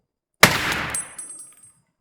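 A single sharp rifle gunshot in Escape from Tarkov at an outdoor customs range, a loud close crack followed by a ringing metallic echo and tail that fades over about a second, with no talk.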